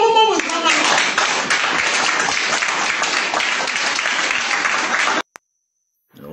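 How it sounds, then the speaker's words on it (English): Church congregation clapping hard, a loud, dense, sustained round of applause from many hands, cutting off abruptly near the end and followed by silence. "they're really satisfied because they're clapping really hard"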